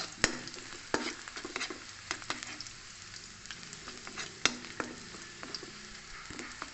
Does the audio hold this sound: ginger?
yes